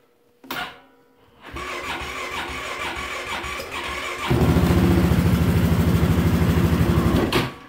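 A 2016 Polaris Sportsman 570 fuel-injected ATV cold starting: a brief click, then a whirring crank, the engine catching and idling, and a louder, rough revving idle that runs steadily up close to the end.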